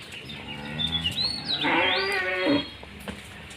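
A Holstein Friesian dairy cow, a first-calf heifer, calls loudly and close by on a farm with a single drawn-out, rising and falling bellow lasting a couple of seconds.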